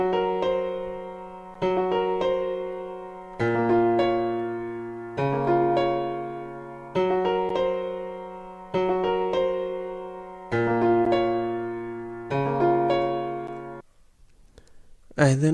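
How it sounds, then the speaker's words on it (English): A piano melody sample plays a repeating phrase of struck notes, each strike ringing out and fading before the next about every second and a half, with the last note trailing into quiet. "instead of playing piano chords, I played a piano melody instead"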